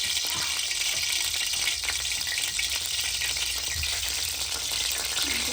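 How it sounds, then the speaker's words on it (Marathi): A spoonful of ground spice masala fries in hot oil for chana dal amti, a steady, loud sizzle that runs unbroken throughout with faint stirring scrapes. "छान परतून घेऊ तेलामध्ये"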